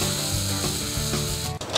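A door deadbolt's screws being started by hand, a close, steady ratcheting and grinding of metal turning into wood, continuous and clear with no talk.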